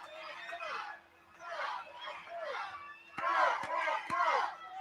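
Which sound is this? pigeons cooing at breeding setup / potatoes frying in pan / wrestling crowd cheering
wrestling crowd cheering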